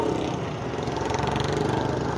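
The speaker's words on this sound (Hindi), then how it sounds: "जो गाड़ी रुक गई थी वो निकली जगह से" A Tata truck engine pulls away on a steep mountain road after being stopped: a loud, close, throbbing diesel drone with a rapid, regular pulse that keeps steady for the whole stretch, with no voices.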